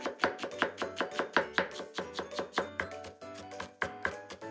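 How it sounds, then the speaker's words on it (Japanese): A knife finely mincing onion on a cutting board, a rapid, steady run of crisp close chops, about four per second, with no talk. "玉ねぎはみじん切りしておきます。"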